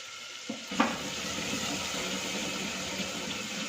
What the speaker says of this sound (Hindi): अच्छे से मसाले को फ्राई करना है